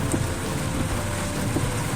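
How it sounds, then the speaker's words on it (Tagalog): Steady, dense hiss of heavy rain pouring down during flooding, a constant wash of noise with no voices. "kasi nga sobrang lakas ng ulan"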